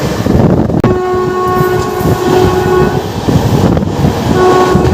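A Howrah–Ghatshila MEMU Express train rumbles steadily close by while being overtaken, its sustained horn sounding in long tones, with rolling rail noise throughout and no talking.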